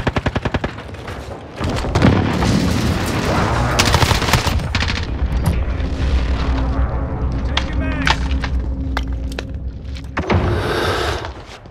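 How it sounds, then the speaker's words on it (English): Online multiplayer Call of Duty Modern Warfare gunfire and a precision airstrike: rapid bursts of loud gunshots, followed by sustained heavy firing and booming explosions close in, with occasional voice lines over the battle. "Enemy precision airstrike. Take cover."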